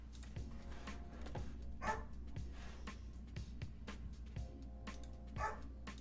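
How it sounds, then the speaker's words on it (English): A dog barks repeatedly in short, faint yaps somewhere in a room, with quiet electronic hum and occasional typing-like clicks underneath. "And my dog is barking."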